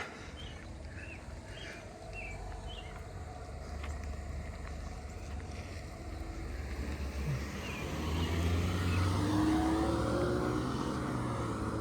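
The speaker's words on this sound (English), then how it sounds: "Here comes a car." A car approaches from a distance and grows louder as it passes, tires and engine rumbling over a quiet outdoor background with faint birdsong.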